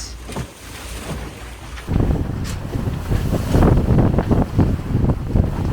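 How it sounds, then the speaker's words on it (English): Gusty wind buffets the microphone in loud, rough bursts, rising sharply after a quieter opening and staying strong to the end. "It's pretty windy now"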